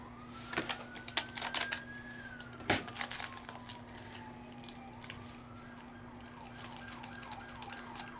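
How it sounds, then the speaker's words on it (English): Distant emergency sirens wail outside, rising and falling and later yelping quickly, over a steady indoor hum, with scattered close clicks and taps from a crafting workspace. "Oh, I hear sirens."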